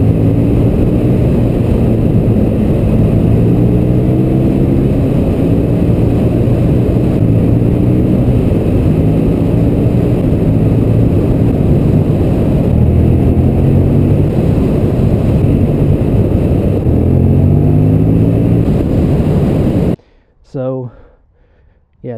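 A 2014 KTM 1290 motorcycle engine during a test ride, a loud, continuous, rough-edged drone with shifting pitch as the bike accelerates, which cuts off abruptly near the end, leaving brief faint sounds.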